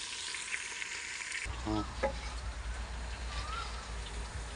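Garlic and red chili sizzle in hot oil for a curry with beans and potatoes, a steady crackling fry that shifts when the ingredients are added partway through, with a low rumbling hiss underneath.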